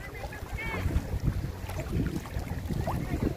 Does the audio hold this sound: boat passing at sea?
yes